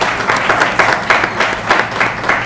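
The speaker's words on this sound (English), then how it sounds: "A big applause." Audience applause at a student debate competition final, a brief dense burst of many hands clapping together, loud and even.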